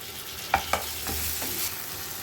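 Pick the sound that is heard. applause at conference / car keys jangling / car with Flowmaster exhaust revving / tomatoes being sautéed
tomatoes being sautéed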